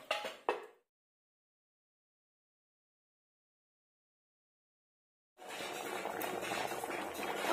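A Bengali-style chicken curry bubbles in a covered pot. A short burst of noise opens, then there is near silence for several seconds before a steady, fairly loud hissing boil comes in and holds to the end.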